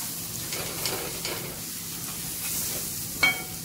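Red chili powder sizzles in hot oil for tempering, a steady soft frying hiss with faint stirring scrapes and a small clink near the end, no one talking.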